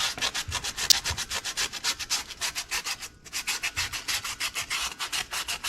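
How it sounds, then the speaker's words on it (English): Rhythmic back-and-forth sanding strokes scrape against a metal wheel-bearing dust shield on a 2017 Ram 3500 dually, close and steady, with a brief pause midway and no talking. "I did some sanding on this shield, dust shield right here."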